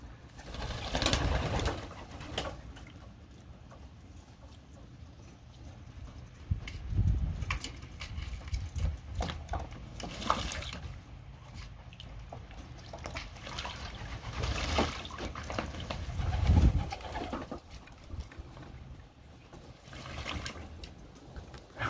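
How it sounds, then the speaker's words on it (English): Pigeons bathing in a new loft, with soft cooing mixed with splashing and trickling water as the birds dip and flutter, bursts of wing-flapping rising and falling over about twenty seconds, close and moderately loud. "There is so many pigeons in there."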